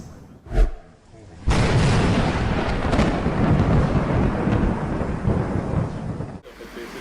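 Thunder in a lightning storm gives one sharp crack, then a long loud rolling rumble that fills several seconds before cutting off, with rain-like noise underneath.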